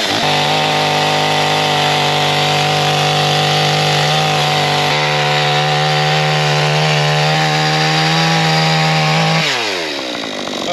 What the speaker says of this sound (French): celle-là, on va devoir la cut à la tronçonneuse à deux.